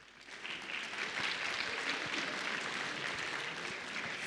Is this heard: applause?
yes